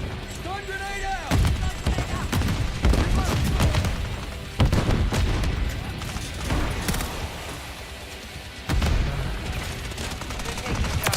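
Stun grenade and gunfire in a multiplayer shooter video game: repeated loud bursts of shots and blasts crowd the whole stretch, with a few sharper booms standing out and a player talking over the action.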